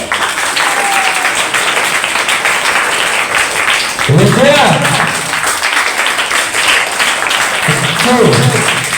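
An audience at a school debate competition applauds a speaker, with steady clapping running throughout and a voice speaking over it in a couple of short bursts.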